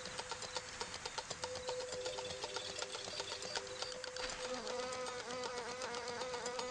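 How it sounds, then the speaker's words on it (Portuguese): A fly buzzes in flight, a steady close high-pitched whine with rapid wingbeat pulsing that shifts slightly in pitch as it moves, continuing alone without any talk. "Elas batem as asas muito mais vezes por segundo do que muitos outros insetos parecidos."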